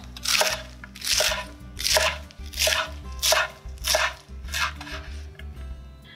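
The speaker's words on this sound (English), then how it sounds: "I'm gonna go ahead and chop it and prepare everything for my salad." Fresh baby lettuce chopped on a cutting board for a salad, about seven evenly spaced knife strikes with crisp crunchy leaf sounds, near and fairly loud with no talking.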